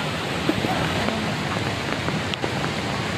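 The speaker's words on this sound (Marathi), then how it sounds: "इथं आल्यानंतर पाऊस सुरू झाला आहे मंडळी" Rain falls near the Kerle waterfall as a dense, continuous wash of rushing water noise, broad and even, with a few faint knocks and no clear speech.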